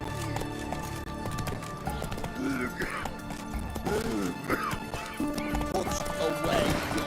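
In The Witcher 3, a horse gallops with a steady clip-clop of hooves, whinnying amid game ambience and background music.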